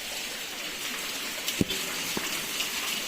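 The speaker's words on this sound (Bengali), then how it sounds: "এখনও বৃষ্টি হচ্ছে মারাত্মক লেভেলের দেখো বৃষ্টি হয়েই যাচ্ছে" Heavy rain pours down steadily outdoors, a dense even wash of hiss with a couple of brief louder splashes or knocks, no voices.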